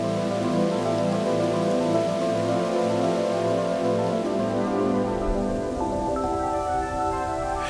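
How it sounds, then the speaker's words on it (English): Rain falls steadily in a brief shower over a green Azores landscape, a dense continuous patter that stays loud and even throughout, with no voices. "suddenly a brief rain shower"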